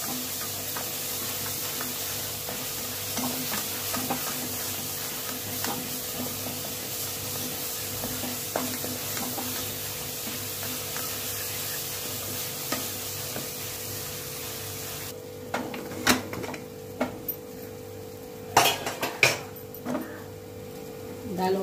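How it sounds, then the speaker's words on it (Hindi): Turmeric, Kashmiri red chili and coriander powder cook in a pan with a steady hiss that quiets partway through, followed by intermittent scraping and knocking as the spices are stirred. "इसको भी 1 मिनट तक पकाएंगे।"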